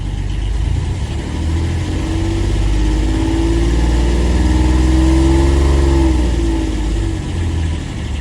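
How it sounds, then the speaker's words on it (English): A car engine with a Bosch alternator that is not charging runs close and loud at a steady idle, then the revs climb slightly and ease back down, with no talking. "I like to just bring it just to an idle for a second, and then hopefully with some increased revs"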